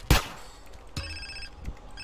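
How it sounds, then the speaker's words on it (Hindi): A phone ringing in the GTA San Andreas video game: short bright tonal ring bursts with a sharp click at the start, repeating a few times over low background game sound. "अब फोन आएगा।"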